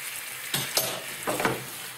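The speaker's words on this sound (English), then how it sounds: "And now we're just cooking until the sauce is nice and thick." A shrimp and tomato sauce for pasta simmering in a pan, with a low bubbling hiss and two soft stirring scrapes close by, no talking.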